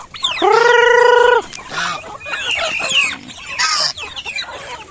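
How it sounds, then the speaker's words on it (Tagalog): Poultry calls in a lively mix from turkeys, chickens and geese: a loud, drawn-out honking call, then several clucks and squawks overlapping, close by with no talking. "May pabo, manok, gansa"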